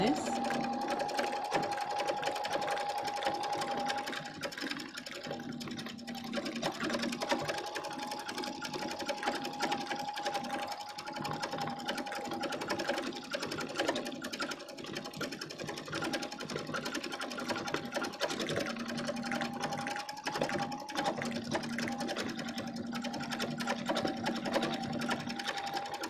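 Sewing machine stitching back and forth over a mended tear in fabric, a steady close mechanical whirr with slight pitch shifts as speed changes, while a person talks over it.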